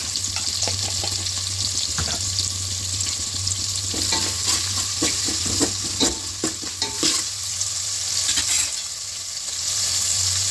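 Onions fry with salt in a pan, a steady loud sizzle with a low hum beneath and intermittent scraping and stirring clatter, no voices.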